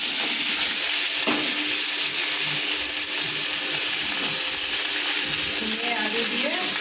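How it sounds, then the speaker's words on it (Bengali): Black cumin and dry chillies hit hot oil for tempering, giving a loud, broad hiss that holds steady throughout. A faint voice can be heard under it near the end. "ফোড়ন দিয়ে দিচ্ছি, পোস্ত"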